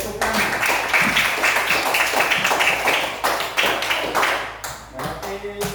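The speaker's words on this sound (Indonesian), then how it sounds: "Oke, tepuk tangan." A classroom of students claps together in steady, dense applause lasting several seconds, fairly close and loud, tapering slightly near the end.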